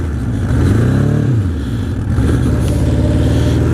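A 1981 Honda CB750 Custom motorcycle engine revs up close and loud, its pitch climbing, then dropping back to a steady, throbbing idle.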